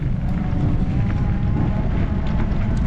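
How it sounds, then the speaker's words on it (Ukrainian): Wind buffets the microphone during a bike ride through a park in Poltava, a constant low, rumbling roar, gusting steadily throughout without any voices. "просто ще вітер дує"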